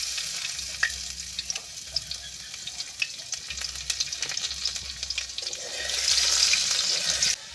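Garlic frying in oil left over from frying fish, a close, bright sizzle that crackles and spits unevenly, swelling louder near the end before cutting off, with no voices.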